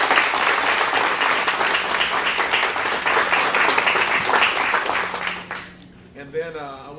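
An audience at a mayoral press conference honoring the Salvation Army bursts into sustained, dense applause that stays loud for about five seconds before thinning into scattered claps and a brief spoken voice.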